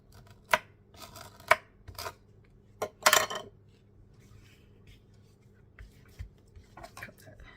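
Scissors snip lace while a handmade Stamperia Wonderland journal is being bound. A few crisp, separate cuts and some rustling sound close up against a quiet room.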